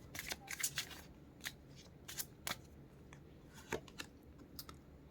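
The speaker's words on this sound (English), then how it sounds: "let's pull out two more cards for pile two's love life" Tarot cards shuffled and drawn from a deck, a series of short crisp riffling and snapping bursts spaced irregularly, fairly quiet and close with no talking.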